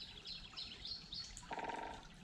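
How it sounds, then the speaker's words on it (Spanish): A faint bird calls beside a stream with a few thin repeated chirps, followed by a rapid buzzing trill, against a steady wash of running water. "No sé qué pájaro es ese."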